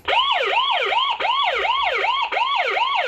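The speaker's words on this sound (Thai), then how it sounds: "พร้อมเสียงเตือนที่ตัวกล้องนะครับ" A loud electronic siren from a 998ip WiFi security camera, triggered by motion, wails in repeated rising-and-falling sweeps, close and continuous, with no other sounds.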